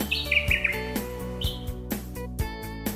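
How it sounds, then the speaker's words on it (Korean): A bluebird on a mountainside where an old man gathers medicinal herbs chirps in short bright tweets over a soft musical background, the calls clustered near the start and recurring once mid-clip. "그때 어디선가 새소리가 들려오기 시작했지."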